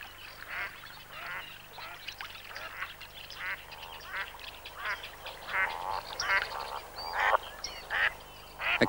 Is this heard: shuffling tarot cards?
no